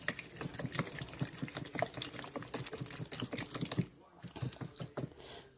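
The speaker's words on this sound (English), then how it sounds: "I'm going to whisk this up a little bit." Oat lemon bar mixture is whisked in a bowl, giving a steady run of quick, close scraping taps that stop briefly near the end before a few more strokes.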